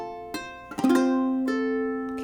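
Ukulele picking a phrase of the SpongeBob SquarePants theme with hammer-ons and pull-offs: a few close, clear plucked notes, then a quick hammered-on note that rings and slowly fades, played alone.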